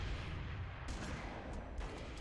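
A grenade goes off during a Halo 2v2 tournament match: two heavy, broadband blasts about a second apart, loud and close, over a steady rumble of game noise.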